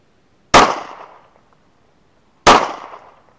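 Two sharp Glock 19 pistol shots ring out about two seconds apart, each a loud close crack with a decaying echo trailing behind it, and no talking in between.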